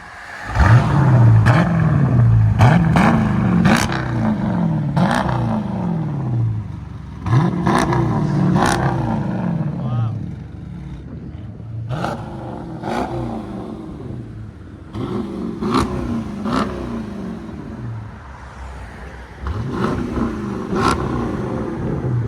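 A Jeep Grand Cherokee with a 5.7L HEMI V8 and a Flowmaster, Carven or straight-pipe exhaust revs repeatedly, each throttle blip rising into a loud, deep roar and falling back to a rumbling idle.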